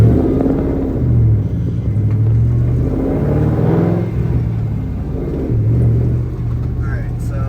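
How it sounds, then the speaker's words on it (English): Ford Mustang being prepped for drifting, its engine running on a test ride, a steady low rumble with mild revving throughout, up close and fairly loud, with talk over it. "Taking the Mustang for a test ride."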